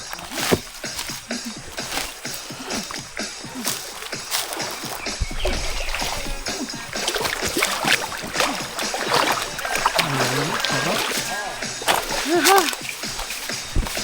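Mountain river water splashes and sloshes continuously, with paddle-like strokes and a voice talking over the busy, moderately loud flow.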